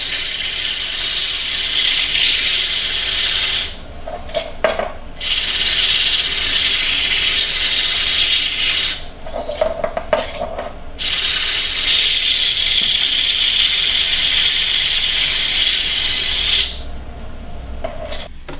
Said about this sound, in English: I'm just going to sand up this side and then part it off